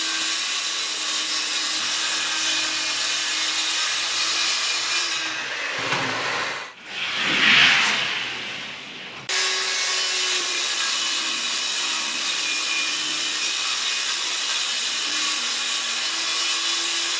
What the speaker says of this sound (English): I also cut a couple of strips of wood here.